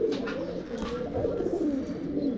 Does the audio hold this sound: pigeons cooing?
yes